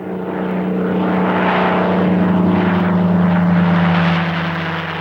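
Gee Bee R-2 propeller racing airplane flying past, a loud continuous engine drone with steady propeller hum that swells slightly and holds for several seconds, no voices.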